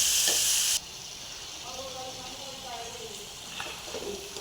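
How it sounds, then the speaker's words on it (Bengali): Spice masala with tomato fries in a pan with a steady soft sizzle, with a louder hissing burst at the very start and occasional stirring scrapes. "এবার মশলাটা দিয়ে আমি ভালো করে কষিয়ে নেব"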